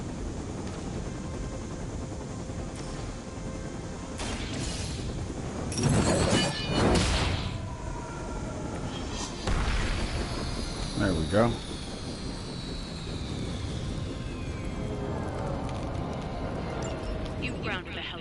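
A helicopter is downed in the video game Midnight Suns: a droning rotor and engine hum, then loud crashing bursts in the middle. A voice speaks briefly during it.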